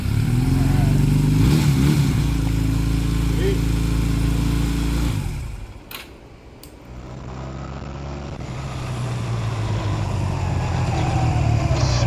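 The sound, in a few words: Honda Rebel motorcycle engine starting and running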